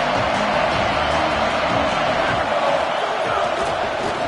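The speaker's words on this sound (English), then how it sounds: "This crowd ready to make its presence known." A stadium crowd at an Oregon football game roars in a steady, dense wash of noise, loud and unbroken, with no distinct voices rising above it.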